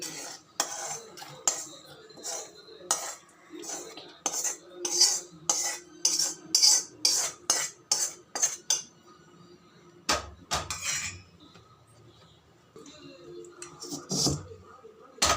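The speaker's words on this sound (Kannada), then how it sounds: "ಈಗ ಇದನ್ನು ಬೇರೆ ಪಾತ್ರೆಗೆ ಟ್ರಾನ್ಸ್ಫರ್ ಮಾಡ್ಕೋಬೇಕು" Rapid metallic scraping as a spoon repeatedly knocks and scoops Mysore pak mixture out of a pot into another, a rhythmic run of clanks, then quieter handling of cookware.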